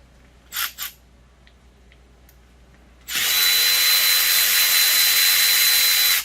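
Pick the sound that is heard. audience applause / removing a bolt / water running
removing a bolt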